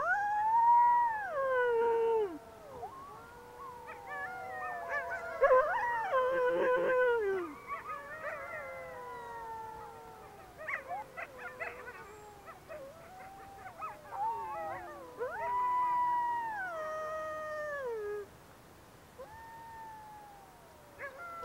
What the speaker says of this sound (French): Les loups hurlent pour exprimer toute la gamme de leurs émotions, pour communiquer entre eux sur de longues distances